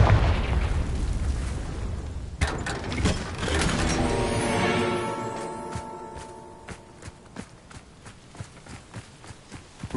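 A Confringo spell explodes in Hogwarts Legacy with a loud, deep blast at the start, which rumbles and fades into scattered crackling debris and thuds.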